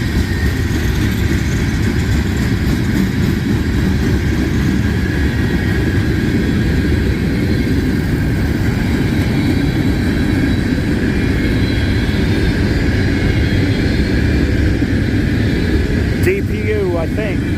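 A Norfolk Southern 12G freight train passes at night on the Conemaugh Line near Creighton, Pennsylvania, giving a steady, heavy low rumble and drone throughout, with a brief higher squeal near the end.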